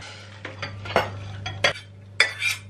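Boiled green lentils are emptied from a pot into a bowl, with several separate metallic clinks and scrapes of cookware over a steady low hum.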